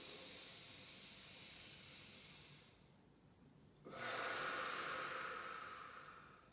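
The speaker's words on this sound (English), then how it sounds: "we're going to get you to breathe deeply into your abdomen" Slow, deep breaths into the belly, a long soft hiss of air that fades into a pause and then returns louder and fuller as the breath rises upward, heard close and quiet with no talk.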